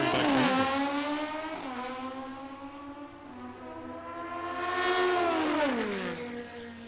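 Drag race cars at Tucson Dragway roar steadily through a run, with a loud sustained engine tone that rises, dips and swells again as a second pass of revving builds toward the end.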